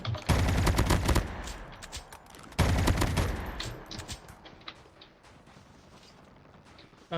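Machine gun fire in Call of Duty Mobile: two long, loud sustained automatic bursts, the second starting after a brief gap, then fading into scattered quieter shots and background game noise.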